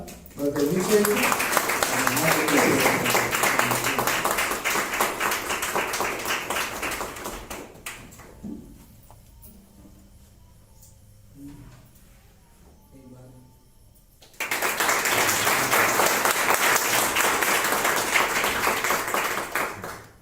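Loud applause from an audience at a Christian ministry gathering welcoming a minister, in two long sustained bursts separated by a quieter stretch in which a voice can be heard.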